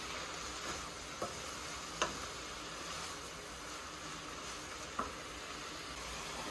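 Food frying in coconut oil in a pan: steady, even sizzle throughout, with a few sharp clicks of a utensil tapping the pan while it is stirred.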